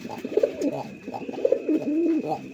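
A male Deshi Bombai pigeon coos nearby in a deep, thick voice, a run of low throaty rolling coos repeated in quick succession with a faint steady hum behind.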